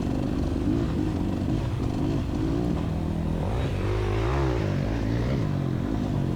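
A Beta Xtrainer 300 two-stroke dirt bike is ridden hard through rough hare scramble terrain, its engine close and loud, revving and bogging in uneven surges with clatter from the ground underneath.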